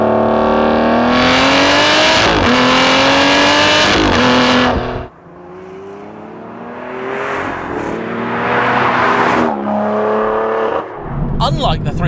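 A 595 bhp Aston Martin V12 Vantage S with a manual gearbox accelerates hard: a loud, close V12 note climbs steadily, breaks at each quick gear change and climbs again several times before easing off at the end.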